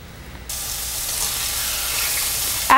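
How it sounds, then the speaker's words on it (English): Two chicken breasts go down into a pan of hot organic coconut oil, setting off a sudden, steady sizzle that rises abruptly and then holds loud and even, with no talking. "Now I'm ready for my chicken breast to go down in my pan."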